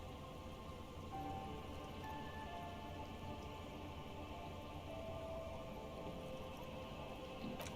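Steady rain falls in the game Disco Elysium, a soft continuous patter with no pauses, faint and even throughout with no voices.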